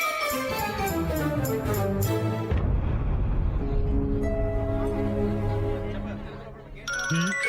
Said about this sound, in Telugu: ఫోన్ వస్తుంది, ఎత్తు.